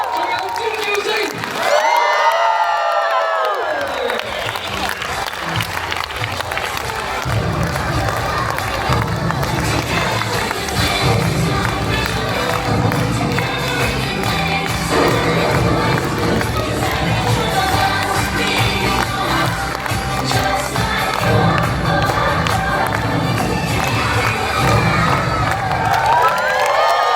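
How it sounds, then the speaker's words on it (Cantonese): Children and parents at a kindergarten event scream and cheer, a long, loud, continuous roar of high-pitched shrieks, whoops and crowd noise that never lets up. "仲有尖叫聲。"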